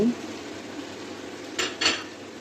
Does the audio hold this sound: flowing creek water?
no